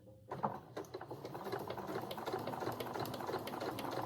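Domestic sewing machine running steadily and close up while understitching the facing of a dress, an even rapid mechanical whir after a brief start.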